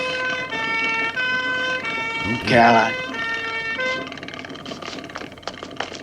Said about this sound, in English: Ambulance got there very quick.